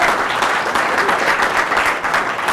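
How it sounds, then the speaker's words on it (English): Steady, dense audience applause fills the space at an even, loud level, a continuous wash of many hands clapping at an event with no voices rising above it. "And you guys are so good at this applause thing"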